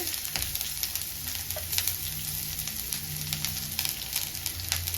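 Mustard seeds, urad dal, chana dal and onion crackle and sizzle in hot oil in a pan, a steady close frying hiss with small pops throughout and no voices.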